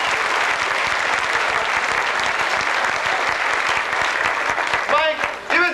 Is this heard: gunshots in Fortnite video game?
no